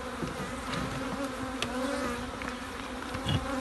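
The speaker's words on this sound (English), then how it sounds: "wish the bees well" Honeybees hum steadily around an opened farm beehive, a dense close drone with individual bees buzzing past the microphone, no talking over it.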